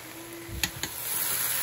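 Cabbage frying in a thin frying pan gives a steady soft sizzle with a couple of brief scraping stir clicks, heard alone and close.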